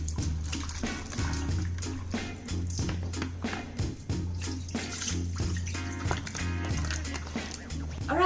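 Steady splashing and sloshing of water as salted young radish is rinsed for kimchi, with continuous agitation and repeated clattering handling throughout.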